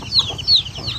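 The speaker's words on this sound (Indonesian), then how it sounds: "Ini ayam yang dari Trogotuwong." Chickens cluck close by in short, repeated bursts over about a second, with faint farmyard background noise and no speech.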